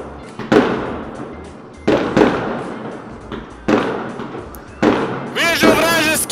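Sharp gunshot-like bangs go off in an online multiplayer shooter, four loud reports spaced about a second or more apart, each with a decaying tail, while players talk over the action.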